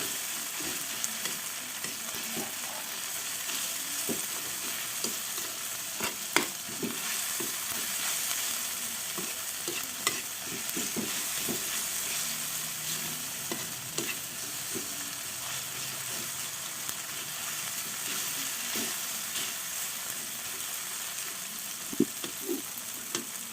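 Tomatoes sizzling and frying in a pan for an egg and tomato dish, a steady hissing crackle with occasional scraping clinks of a utensil stirring, close and continuous.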